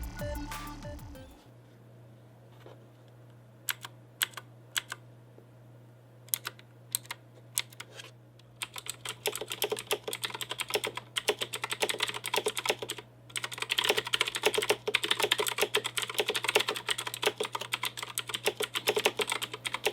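Razer BlackWidow X Chroma mechanical keyboard keys clack crisply, starting as sparse isolated clicks and building into fast, continuous typing, close and loud.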